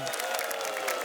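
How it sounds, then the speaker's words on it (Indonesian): Audience applause and crowd noise at a live Indonesian stand-up comedy show, a steady broadband patter of clapping from seated spectators filling the whole second without pause. "Man mau tepuk tangan dong."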